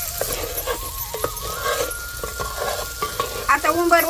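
Ground spice paste dropped into a hot pan for a vegetarian curry, sizzling steadily while a spoon scrapes and stirs it in repeated strokes, close and moderately loud with no talking.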